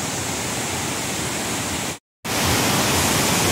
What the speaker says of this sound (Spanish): el sonido del agua golpeando las piedras acá en el río Tutelar de la ciudad